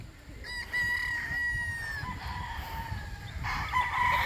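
Chickens on a farm: a rooster crows in drawn-out calls, with another crow toward the end and scattered clucking, moderately close over low outdoor background noise.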